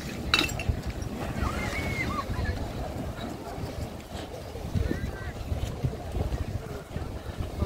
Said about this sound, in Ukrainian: Бачите, які бувають хвилі такі серйозні, що аж на пірс